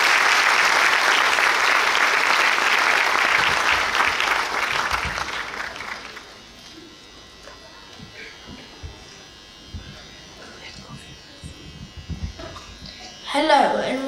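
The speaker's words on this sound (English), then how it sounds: "give a big round of applause to our students to encourage them tonight" Loud audience applause for school students at a Year 5 and 6 Christmas performance fills the first six seconds, then fades to a quiet room with scattered sounds and a brief voice near the end.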